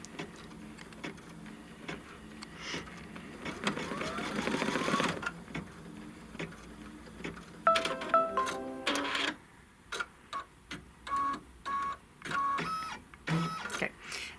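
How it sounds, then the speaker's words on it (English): A Kimberbell embroidery machine stitches a short ribbon placement line on a roll-up pouch project, giving a steady mechanical whir with rhythmic ticking needle strokes and a few brief pauses and restarts, close and moderately loud with no talking. "what it's going to stitch now is the placement line for the piece of ribbon"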